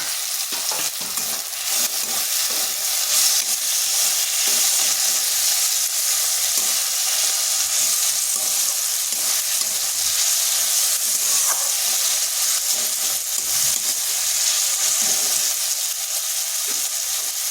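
Tomato and green chilies fry in a pan for an egg dish, giving a steady, dense sizzle with frequent stirring scrapes and clinks throughout, close and fairly loud, with no talking.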